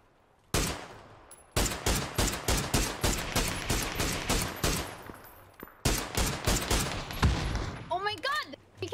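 Rapid automatic gunfire from PUBG gameplay on the Erangel map, loud close bursts of shots in quick succession with brief pauses, the shooting running through most of the stretch.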